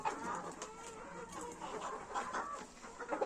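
Several chickens and a rooster cluck and chatter nearby, overlapping in an irregular stream of short calls from a small flock.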